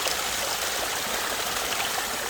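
A river runs steadily past a golden tree overhanging its bank, a continuous broadband rush and trickle of flowing water at even loudness throughout, close by with no voices.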